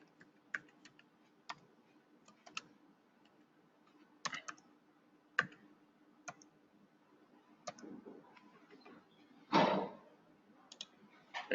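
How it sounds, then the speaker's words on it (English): Keys clatter on a computer keyboard in sparse, separate clicks with pauses between them, then a louder burst of several quick keystrokes, all close and dry with no talking. "then press the tab from the keyboard"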